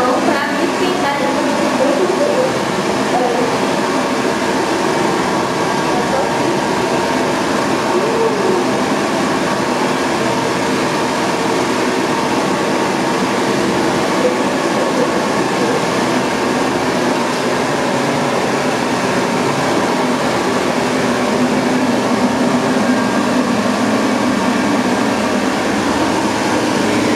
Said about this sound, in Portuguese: Tô usando, gente, essa máquina aqui, ó. Que ela ajuda a secar a mão pra me pintar.